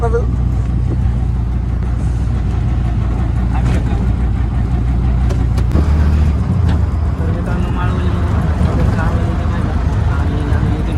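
An auto rickshaw rolls along a road with a steady, loud engine drone and constant road rumble throughout, heard from inside the ride, with voices faintly mixed in under the noise.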